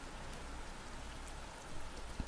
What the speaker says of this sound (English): The rain slows down to a steady pace